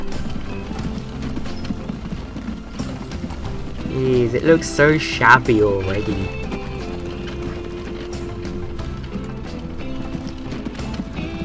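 Horse hooves clip-clop in the Transport Fever 2 video game, a steady light patter running under game music and a voice talking.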